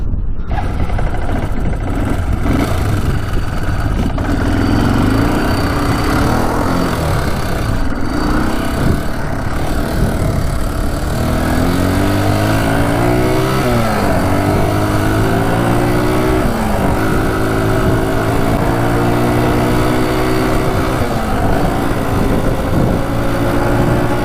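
A broken ATV with a dump bed runs steadily while being driven, its engine droning loud and close with rising and falling revs and a continuous rattly mechanical hum throughout.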